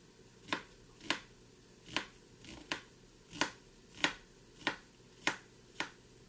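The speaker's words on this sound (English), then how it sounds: "We're going to dice the whole onion because we want all of that." Knife dicing an onion on a cutting board: about ten sharp, evenly spaced chops sounding close and alone.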